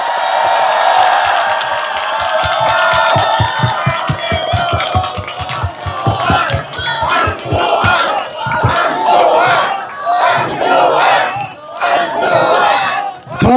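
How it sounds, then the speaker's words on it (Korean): A crowd at an outdoor press conference in Olympic Park breaks into steady rhythmic clapping, then swells into loud overlapping cheers and shouts that carry on to the end. "박수 한번 부탁드리겠습니다"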